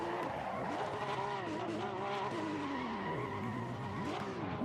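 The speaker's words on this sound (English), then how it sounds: "Doing burnouts in ACC is so bad" Porsche Cup car in Assetto Corsa Competizione doing a burnout: continuous loud engine roar with wavering revs and steady tire squeal throughout, close and unbroken.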